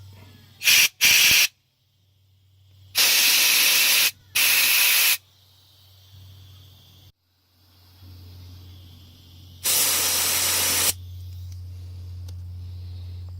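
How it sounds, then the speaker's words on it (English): Compressed air blown through the passages of a genuine Mikuni carburetor from a Toro CCR2000 snowblower: several sharp, loud hissing bursts of varying length, the first two very short, separated by quieter gaps over a low steady hum. "This is a genuine Mikuni carb. Let's see, blow into these passages too."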